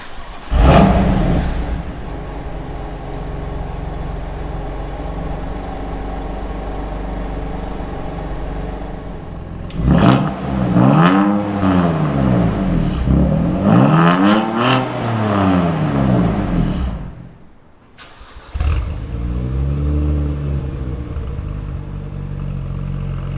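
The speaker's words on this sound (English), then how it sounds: "I'll show you guys some exhaust sounds." A BMW M2 Competition with a stock exhaust and an E82 135i fitted with an M Performance exhaust idle loudly nearby, then rev repeatedly in rising and falling sweeps, with a brief dip before another rev.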